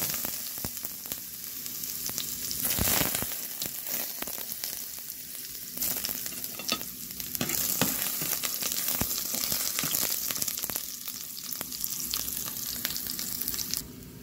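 Chopped onion frying in hot cooking oil in a pan, a loud steady sizzle that carries through the whole stretch, with occasional utensil clicks and scrapes and no voices.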